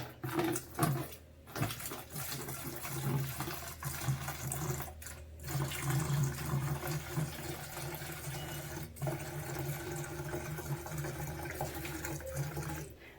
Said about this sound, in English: Okay, third fill and final, which I will mix this with water